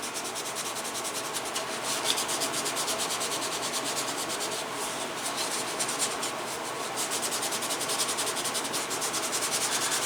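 A dyed leather holster edge is rubbed briskly by hand to burnish it, giving a steady close-up rubbing hiss with a fast back-and-forth rhythm throughout.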